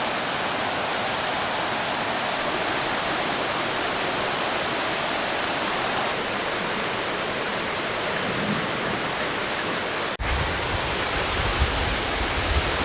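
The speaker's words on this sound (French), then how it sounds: "on vient de voir qu'il y a une rivière" A flowing river rushes in a steady, loud, broadband wash, continuous and close, ending with a brief shift in the sound near the end.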